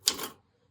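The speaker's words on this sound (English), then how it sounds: "This typewriter is a very important part of the show. It does function" A heavy working typewriter used as a theater stage prop, giving a single sharp mechanical strike with a brief rattling clack that quickly dies to silence.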